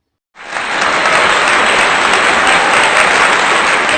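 A large audience bursts into loud, sustained applause as a woman is called onto the stage at a family-drama show, dense clapping starting abruptly and holding steady throughout.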